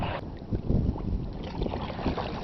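Paddles dip and pull through water as a small boat moves along, broadband splashy strokes recurring every half second or so, close to the microphone, with some wind noise and no talking.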